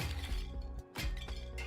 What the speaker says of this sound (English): take the hammer, which, yeah, you guessed it, is great for smashing stuff